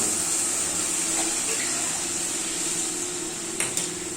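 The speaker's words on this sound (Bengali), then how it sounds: "এবার আমি এর মধ্যে দিয়ে দিচ্ছি ওই চামচের 2 চামচের মতন জল।" Water poured onto sugar in a pan to start caramel, a steady close rush of flowing water lasting a few seconds, with a couple of faint knocks near the end.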